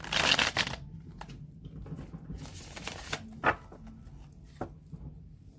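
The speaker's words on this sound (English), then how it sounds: "I'm going to shuffle it 3 more times." Tarot cards being shuffled by hand, a dense riffling burst at the start followed by scattered soft card slaps and shuffles, close and fairly quiet with no talking.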